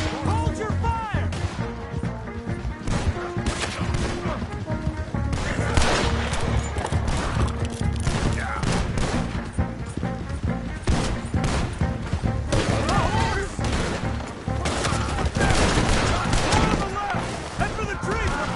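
Red Dead Redemption 2 gunfight with dense, loud volleys of rifle and pistol shots cracking in irregular bursts, mixed with shouting voices and background score.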